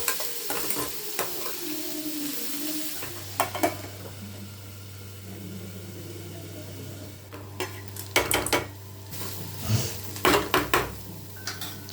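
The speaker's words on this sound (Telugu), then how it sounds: "సన్నగా కట్ చేసి పెట్టుకొని ఉన్న ఆనియన్స్, పచ్చిమిర్చి, క్యారెట్ వేసుకొని బాగా ఫ్రై చేసుకోవాలి" Sliced onions, green chillies and carrot fry in a pan for a dosa filling, with a steady sizzle under clattering stirs and the metal spoon scraping and knocking against the pan, close up, with no talk.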